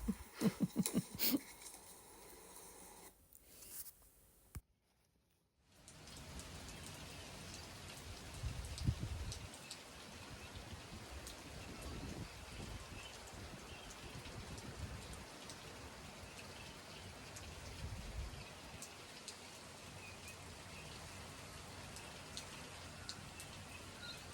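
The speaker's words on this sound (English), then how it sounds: "Crazy wind and rain today." Wild spring wind and steady rain in rural Australia, a continuous hissing wash of drops with gusty low rumbles, close and fairly loud, starting after a brief hush with no voices.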